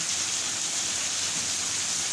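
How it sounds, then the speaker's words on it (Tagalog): Steady, dense rain pours down continuously in the Philippines, a loud even hiss of heavy morning rainfall with no pauses and no voices. "Ayan po, ang lakas ng ulan. Oh. Too much rain."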